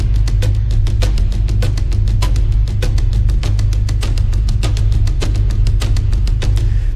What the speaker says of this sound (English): the taikos alone sound like this.